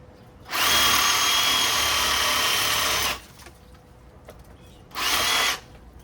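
A power drill whirs steadily for about two and a half seconds, stops, then gives a second short burst; loud and close, with no talking.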